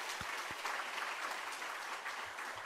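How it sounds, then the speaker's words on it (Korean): Church congregation applauding during a Sunday evening dedication service, a soft, steady patter of many hands heard from a distance, fairly quiet throughout. "박수하겠습니다."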